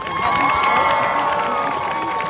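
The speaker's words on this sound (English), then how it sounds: "let's give a round of applause for all of our speakers today" Outdoor crowd at a Stop Asian Hate march cheering and applauding its speakers, a steady dense roar of clapping and shouts with some children's voices mixed in.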